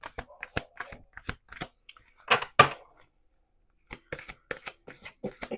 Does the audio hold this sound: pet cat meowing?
no